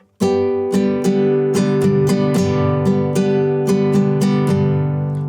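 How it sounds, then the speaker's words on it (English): Close, bright downstrokes on an acoustic guitar, struck with the nail of the first finger: about a dozen strums in a steady rhythm, each chord ringing on into the next, with no voice. "What I'm doing is strumming down with, actually I'm only hitting with my first finger."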